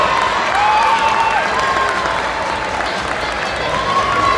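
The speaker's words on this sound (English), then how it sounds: "Let's put our hands together for the crowd for these big Firestarters." A crowd at a junior roller derby bout applauds and cheers in a continuous, fairly loud roar, with a few whistles or shrill calls rising above the clapping.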